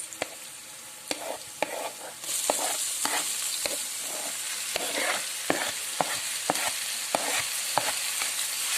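Boiled banana blossom stir-fries with spices in a pan, with a continuous loud sizzle broken by repeated sharp scrapes and knocks of a spatula at an irregular rhythm, close up and without voices.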